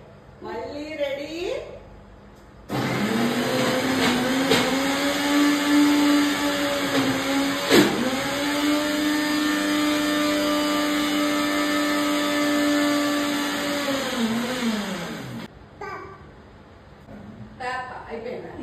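A kitchen mixer grinder runs with a loud, steady motor whine and whirr for about thirteen seconds, close by. Voices are heard briefly before it starts and again after it stops.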